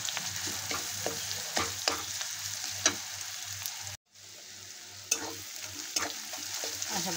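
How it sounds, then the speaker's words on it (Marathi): A paste of ginger, garlic, coconut and coriander sautés with browned onion in hot oil, sizzling steadily with repeated scraping stirs close by and a brief pause midway; no one speaks. "वाटण तेल सुटेपर्यंत गरम करून घ्यायचं।"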